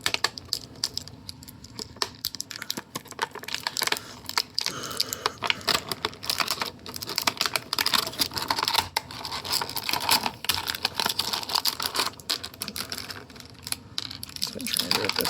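Tape being peeled and crinkled off a Star Wars Black Series Ronin action figure, a close run of irregular crackling tears and packaging rustles, with occasional talking.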